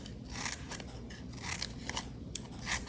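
Scissors snip through cut-off paper strips in quiet, close crisp cuts, several separate snips spaced about a second apart.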